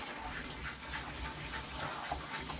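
Water rinsing a standard poodle puppy during a bath, a soft, steady gushing stream that is faint and continuous, with no talking.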